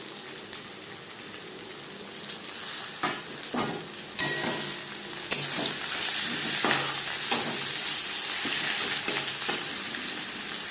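Marinated chicken added to lightly fried onions in a pan for a potato chicken curry, sizzling and frying steadily with stirring scrapes, with a louder burst of sizzle as the meat hits the hot oil and continuing close by.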